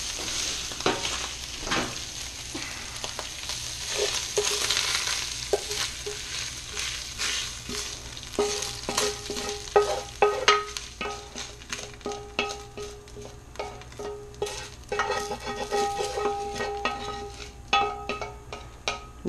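Sausage browning in a pan for lasagna, with continuous close frying sizzle and crackle, plus intermittent scraping and stirring clatter of a utensil against the pan, no talk.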